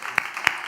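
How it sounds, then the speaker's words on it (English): Audience applause for panelists at a panel discussion: a brief burst with two sharp, distinct hand claps standing out over a hissy crowd-noise bed. "Let's give our panelists a big round of applause"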